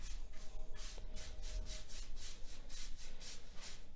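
Dry brushing paint along the edge of a golden oak table, heard as steady, close rhythmic brush strokes rubbing back and forth across the wood, about eight even passes with no talking.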